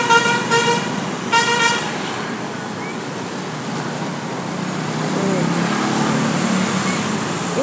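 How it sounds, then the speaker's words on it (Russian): An evening bus pulls into a bus stand in Arambol, Goa, sounding two bright horn toots near the start, then a steady engine rumble and road traffic wash that continues at moderate loudness. "Вот он, вечерний автобус пришел."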